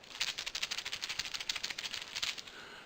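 Dried okra pods shaken like a maraca, a quick run of dry, papery seed rattles in a fast pulsing rhythm, faint and close for a few seconds with no talking.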